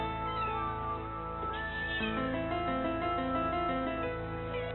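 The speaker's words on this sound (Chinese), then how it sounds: "家里喵星人为何哀嚎不断？" A cat wails in long, drawn-out, rising and falling meows, close and fairly faint, with no talking.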